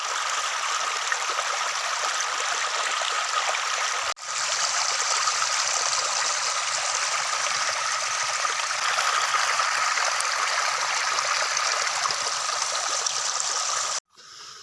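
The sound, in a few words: water flowing in a village stream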